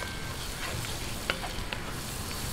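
Onions fry in a pan as the base for spicy butter garlic mussels, with a dense, even hiss that holds steady throughout. A couple of faint light clicks from a utensil break through it.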